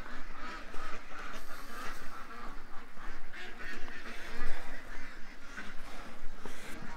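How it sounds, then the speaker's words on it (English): Ducks quack continuously in a morning rush as they come around toward a pond, a busy overlapping chorus of honking calls at steady moderate loudness. No voices are heard. "Short bus ducks are coming now."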